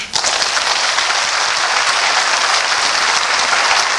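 A room full of people at a Korean political press conference claps loudly and steadily, a dense continuous applause with no voices over it.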